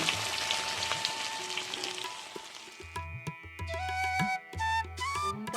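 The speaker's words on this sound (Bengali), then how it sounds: "ইলিশ মাছগুলো এবার ভেজে নেব" Hilsa fish fry in mustard oil with a loud, crackling sizzle that dominates the first half, then thins as tonal clinks and other sounds take over.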